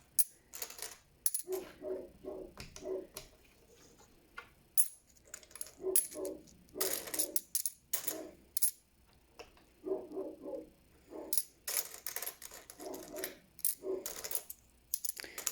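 Canadian one-dollar coins clink and rattle in repeated bursts as they are handled and sorted, with short pauses between handfuls and a dog barking faintly in the background.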